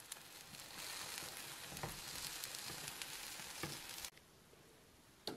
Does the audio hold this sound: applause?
no